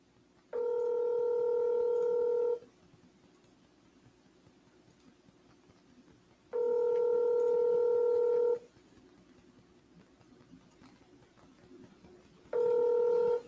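An outgoing phone call rings out: three long steady ringback tones, each about two seconds, separated by quiet gaps with faint line hiss.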